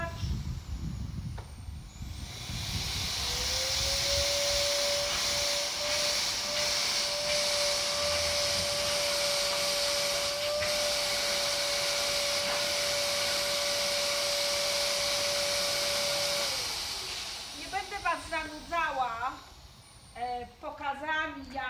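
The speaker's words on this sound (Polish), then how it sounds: "Włączamy odkurzacz." A vacuum cleaner runs over a horse's coat, starting with a rising whine that settles into a long steady roar before cutting off, followed by brief talk.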